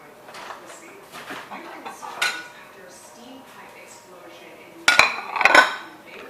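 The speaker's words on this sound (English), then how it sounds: "So let me grab my 2 plates." Two plates are grabbed and handled in a home kitchen, giving soft scattered knocks early on and then a louder burst of clattering, clinking crockery near the end.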